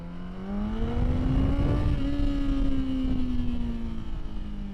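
A small engine revs at about 20% throttle, its rising then steady tone holding close and loud before it eases off as the spark cuts out.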